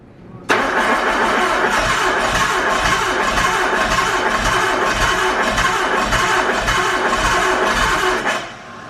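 A Nissan Skyline RB25 engine cranks briefly and catches, then runs loud and close at a steady, slightly lumpy idle for several seconds before dropping off.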